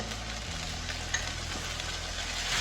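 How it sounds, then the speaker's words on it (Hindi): Ginger garlic paste and tomato puree fry in a pan with a steady, close hiss and fine crackle, continuous and even, with a low hum beneath and no speech. "1 चम्मच डाल देंगे जिंजर गार्लिक पेस्ट। भून लेंगे।"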